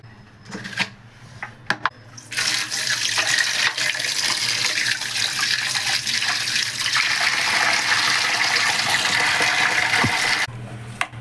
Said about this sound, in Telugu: ఇదండి చేపలు అయితే ఫ్రెష్ మంచిగా కడిగేసానండి